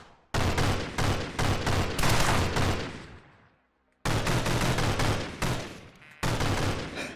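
Blind fire in the video game The Technician, loud close bursts of rapid shots, three separate strings broken by a short silence, each burst trailing off as the shooting stops.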